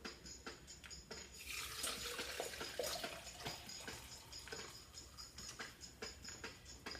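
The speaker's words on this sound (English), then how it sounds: "So now I have some boiling water. I'm just going to pour it into my French press." Boiling water pours in a steady, splashing stream into a French press, faint and close, with a brief hiss as it fills.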